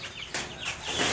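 Chickens on a small farm, including native chickens, give a few short clucks and squawks at close range over a soft outdoor background.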